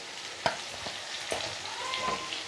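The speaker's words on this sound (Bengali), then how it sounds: "মাংসটাকে একটু ভেজে নিয়েছি" Mutton pieces frying in a pan for Bengali-style mutton kosha, a low steady sizzle with a few sharp spoon clinks and scrapes, close up and without talk.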